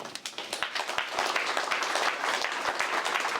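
An audience at a ceremony marking the 20th anniversary of a military history park breaks into loud applause, with dense, sustained clapping that starts with a few distinct claps and swells into a steady wash.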